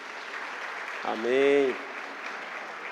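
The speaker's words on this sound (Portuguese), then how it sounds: "Dê uma salva de palmas para aquele casal maravilhoso." Church congregation applauding a couple, a steady soft wash of clapping throughout, with a single voice briefly calling out in the middle.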